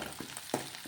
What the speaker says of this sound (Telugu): ఇది పచ్చివాసన పోయేంత వరకు ఇలా నూనెలోనే ఫ్రై చేయాలి